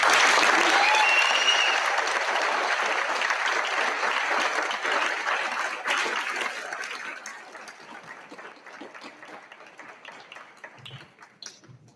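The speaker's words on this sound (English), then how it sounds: "One more round of applause" A round of applause at a school athletics and senior awards ceremony, loud dense clapping from a large crowd that gradually thins and fades over twelve seconds into scattered last claps.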